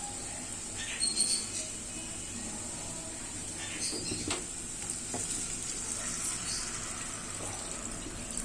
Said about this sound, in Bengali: আমি এখন জল দিয়ে দিচ্ছি।